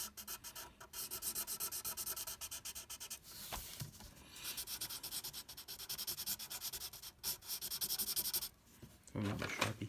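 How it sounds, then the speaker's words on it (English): Sharpie marker colouring in a cartoon mouth on paper: close, rhythmic scratchy rubbing strokes in bursts, with short pauses between passes. "I'm going to color his mouth in"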